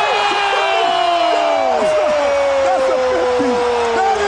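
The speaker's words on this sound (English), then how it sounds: "they've got the crowd on their feet" A packed basketball arena at a dunk contest erupts in sustained, roaring cheers and whoops, with announcers talking excitedly over the steady crowd noise.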